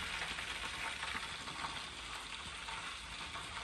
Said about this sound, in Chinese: 等油热了就放下来炸